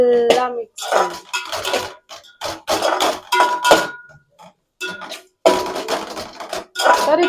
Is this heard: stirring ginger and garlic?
yes